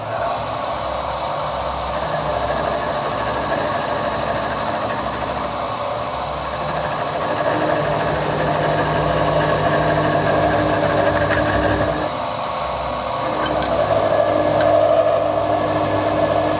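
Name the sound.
milling machine squaring ends of alloy bullet mould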